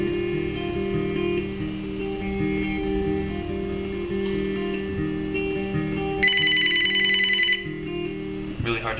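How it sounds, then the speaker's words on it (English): Telephone ringing in a domestic comedy scene: a steady electronic ring tone over a background music bed, one clear burst of bright trilling rings near the end, fairly close. "Emotional moment when the phone's fucking ringing."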